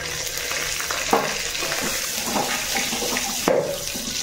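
Cumin seeds and dried red chillies sizzle in hot oil for a village-style Odia amruta bhanda and moong dal dish, a steady close frying hiss with a few sharp pops and stirring scrapes, no talking.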